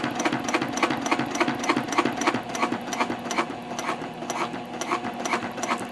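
A sewing machine stitches across clear jelly vinyl while binding a pouch panel, a close, steady rapid clatter of the needle running evenly throughout with no voices.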